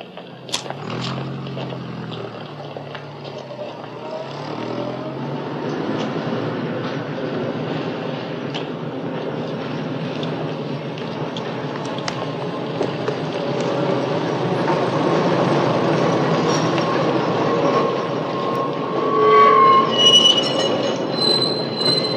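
A train rolls past up close, wheels grinding and rising into a sharp metallic squeal near the end, with a steady heavy rumble throughout.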